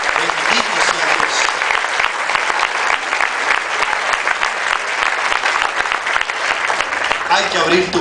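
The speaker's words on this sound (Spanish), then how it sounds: "Levanta un aplauso al Señor." A church congregation applauding the Lord during a Spanish-language sermon, a loud, dense and steady roar of clapping throughout, with voices mixed in.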